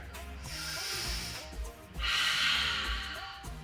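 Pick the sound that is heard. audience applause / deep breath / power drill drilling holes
deep breath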